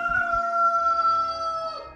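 A rooster crows once in a long, drawn-out call, loud and fairly close, tapering off at the end.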